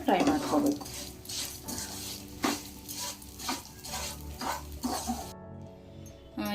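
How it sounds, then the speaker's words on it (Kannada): Vermicelli frying in ghee in a pan, with soft sizzling under repeated scraping and stirring strokes of a spoon against the metal, close and fairly quiet. "ಅದೇ ತುಪ್ಪದ ಪ್ಯಾನಿಗೆ ಶಾವಿಗೆ ಹಾಕಿ ಇದು ಕೂಡ ಗೋಲ್ಡನ್ ಬಣ್ಣ ಬರೋವರೆಗೂ ಫ್ರೈ ಮಾಡ್ಕೋಬೇಕು."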